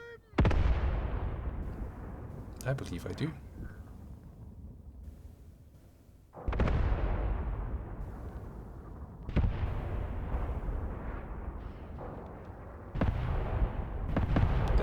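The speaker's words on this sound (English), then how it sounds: "Do I hear mortars shooting?" Mortars firing in the video game Graviteam Tactics during a heavy artillery battle at a bridgehead, with several loud booming blasts that decay slowly and a brief voice between them.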